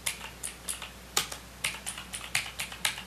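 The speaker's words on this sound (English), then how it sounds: "It sounds like a mechanical keyboard to me" A mechanical keyboard clatters with crisp, typewriter-like keystrokes, about a dozen separate clicks in an uneven typing rhythm, close and fairly quiet, with no talking.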